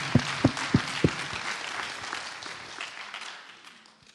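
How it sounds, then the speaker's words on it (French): Church convention audience in Caen applauding: a few sharp, separate claps ring out first, then spread into steady crowd applause that slowly thins and fades. "Okay, clap, clap, clap, Et clap. applaudissez."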